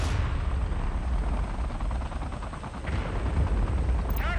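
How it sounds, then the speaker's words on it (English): Artillery fire in Tom Clancy's EndWar, a dense roar of rapid gunfire and blasts pounding steadily without pause, with no speech. "Artillery fire on our position."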